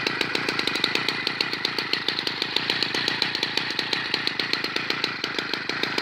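A small 80cc moped engine runs loud and close with a fast, steady two-stroke buzz and a rapid rhythmic popping beat, no voices over it.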